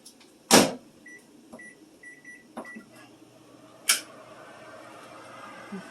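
Sharp clunks of a microwave door and buttons, a few short beeps, then a low steady hum as the oven starts running with steam bowls of potatoes inside.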